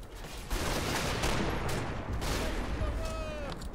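Small-arms fire from British infantry in the Combat Mission: Battle for Normandy war game crackles in a dense, continuous fusillade, loud and close, with a few sharper reports standing out.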